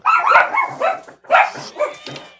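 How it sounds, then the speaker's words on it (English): Several dogs bark excitedly together in a home, a loud, dense cluster of overlapping barks and yips in two bursts with a short gap between them. "All the dogs were like going crazy, all at the same time."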